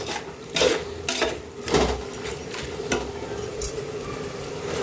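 Biryani masala sautés in a pan while being stirred, with repeated scraping strokes of the utensil over a steady soft sizzle, close and fairly loud.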